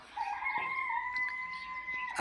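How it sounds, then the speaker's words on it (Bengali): A single rooster crows clearly and fairly near on a small farm keeping Assam tiger, Misri and local deshi chickens, one drawn-out call ending in a sharp rise. "আসামের টাইগার মুরগি এই মিশরি ফার্মি মুরগি আর দেশি মুরগি"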